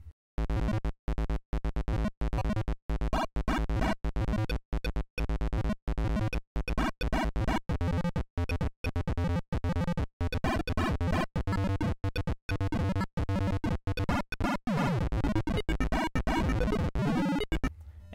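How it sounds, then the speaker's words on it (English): Chiptune in-game music from the Atari version of Robots, a choppy stream of bright square-wave notes in rapid stop-start bursts with short gaps, steady and loud, no voices. "if you press Shift M, you'll hear in-game music"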